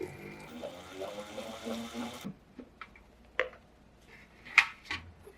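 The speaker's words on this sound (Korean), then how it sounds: "물기를 빼주시고요." Washed, chopped red cabbage drains in a bowl or strainer: a soft trickle of running water for about two seconds, then scattered faint drips and small clicks in a quiet room.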